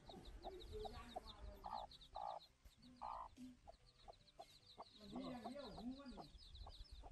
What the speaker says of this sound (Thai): ดูไก่กัน